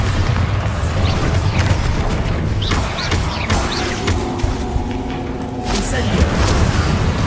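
Blasting spell explosions in the video game Hogwarts Legacy, heavy booming rumbles and crashes overlapping in a loud, dense combat mix with a voice speaking over it.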